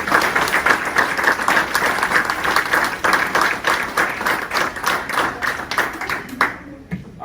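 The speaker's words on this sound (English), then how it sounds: "A round of applause for those who came in." Audience applause at a fire department awards ceremony for firefighters and first responders, a steady dense patter of many hands clapping for several seconds before quickly dying away at the end.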